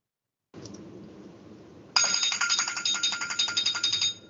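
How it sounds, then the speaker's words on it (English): After a faint rustle, a meeting timer bell is tested in a committee meeting room, giving a bright, rapid ringing that starts abruptly and rattles on for about two seconds before stopping. "Yeah, can you test the bell?"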